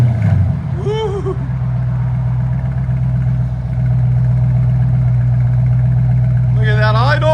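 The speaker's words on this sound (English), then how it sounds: "Look at that idle. I like it. Here's the idle sound." A 2021 Dodge Charger 392 Scat Pack Hemi V8 with a Carven R-Series exhaust idling nearby, a loud, deep, steady rumbling burble with a brief blip of revs near the start and again at the end.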